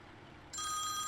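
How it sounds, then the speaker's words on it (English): A mobile phone starts ringing halfway through, its bright repeating electronic ring tone cutting in loudly over a low background hum. "Oh, that's my phone ringing."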